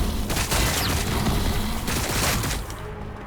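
Dense, sustained battle gunfire from the Warhammer 40,000 strategy game Battlesector, with Blood Angels forces fighting Xenos, a loud continuous roar of volleys and explosions that thins out slightly at the end.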